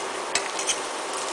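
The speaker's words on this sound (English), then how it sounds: "Here I'm busy frying some onion." Onion frying in a pan on an induction cooker with a dish cloth under the pot, giving a steady soft sizzle with a couple of faint stirring clicks against the pan.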